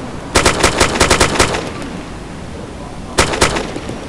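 Gunfire in the video game DayZ: a rapid burst of about eight loud, close automatic shots, a pause, then two more sharp shots, with no speech over the firing.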